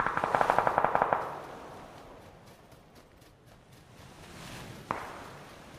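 Gunfire in the PUBG video game: a rapid burst of about a dozen shots opens the clip, followed later by a single sharp sniper-rifle crack amid quiet ambience.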